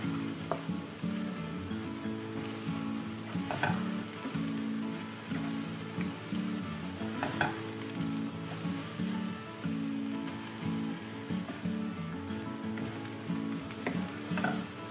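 Onions and ground ginger sizzle and fry steadily in a pan, with repeated scraping knocks from a spoon stirring through the mix, close and continuous with no talking.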